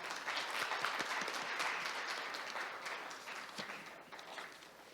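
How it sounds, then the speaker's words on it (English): Audience applause for Professor Terodo at a judicial policy international conference, a steady dense round of clapping from a large crowd filling the whole stretch and tapering slightly toward the end, with no talking. "Please give him a big round of applause once again."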